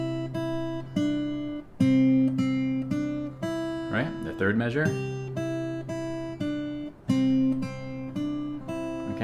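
Acoustic guitar played slowly in a Travis-picking pattern, with the right thumb adding a bass note on the first count of each measure, steady picked notes under a brief spoken interjection midway.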